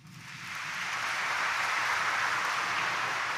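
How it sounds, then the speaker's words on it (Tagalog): Congregation applause at an Easter Sunday morning mass in Quiapo Church swells up from near silence within half a second, then holds as a broad, even roar of many clapping hands. "Palakpakan natin din ang nabuhay na poong Jesus Nazareno."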